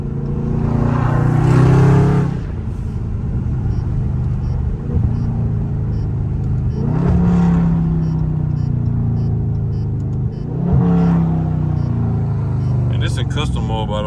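A loud Dodge Scat Pack in custom mode, driven hard through traffic, roars with a deep, steady engine rumble that swells in three strong surges as it accelerates, heard from inside the car.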